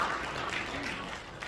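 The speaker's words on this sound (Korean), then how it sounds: "우리 박수로 맞이하겠습니다" An audience at an Incheon Christian citizens' forum and press conference claps briefly, a dense, even patter of applause heard faintly at a distance.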